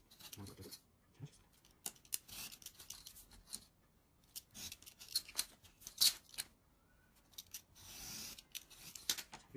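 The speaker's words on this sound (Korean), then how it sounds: "이런 작은 것들은 칼보다는 가위를 이용해서 한번 잘라주면 오히려 더 편하실 수 있어요" Scissors snip small craft pieces for a crankshaft automaton in a series of quiet, irregular cuts and rustles, with soft paper handling between them.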